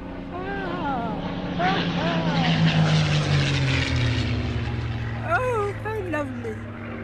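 A Spitfire propeller aircraft engine drones steadily, rising and then settling as it passes nearby, with voices talking over the sound.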